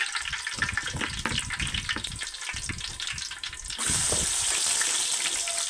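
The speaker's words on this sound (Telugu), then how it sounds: "పోపు వేసుకుంటున్నాను అవి కొంచెం ఫ్రై అయిన తర్వాత కొంచెం ఫ్రై అవ్వాలండి" Tempering spices fry in hot oil in a village-style kitchen, making a dense, steady sizzle close by. The sizzle rises to a louder, brighter hiss partway through, with no voices.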